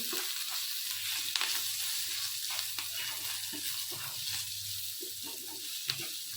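Spices with turmeric and salt fry in a pan for yogurt curry, giving a loud, steady sizzle close by, with light stirring scrapes and a few small pops.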